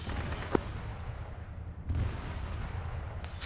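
A wall blown down in the military video game Arma: a dull boom lands partway through over a steady, rumbling battlefield din of distant fire.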